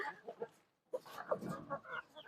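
Backyard chickens cluck close by in short, uneven bursts, with a brief quiet gap before a denser run of clucking and muttering calls.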